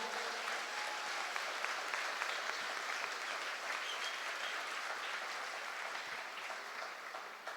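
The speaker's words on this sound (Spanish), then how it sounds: "todos los consagrados aplaudan a San Luis María" A large audience at a Catholic religious talk applauds in honor of Saint Louis de Montfort, producing a dense, sustained wash of clapping at steady volume for the whole stretch.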